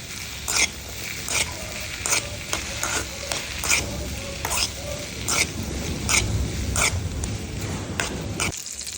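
Garlic, onion and green chilies stir-fried as a base for okra, with a steady sizzle under regular scraping stirs of a spatula in the pan, close and fairly loud.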